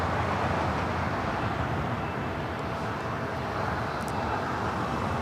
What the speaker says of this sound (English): Next takeoff, American Airlines Flight 1998 heading to Phoenix, Arizona. It's an A321neo.